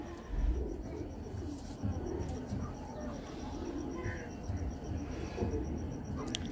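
A prolific breeding pigeon on a Lahore rooftop coos softly amid a steady, noisy outdoor backdrop, its calls blending with faint chirps and a nearby voice.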